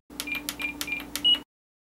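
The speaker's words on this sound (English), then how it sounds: "Small corrections point to only needing a few beeps of trim." A large RC flight transmitter gives a short series of close, clean electronic trim beeps, about four quick chirps with button clicks, ending in a longer tone, no talk.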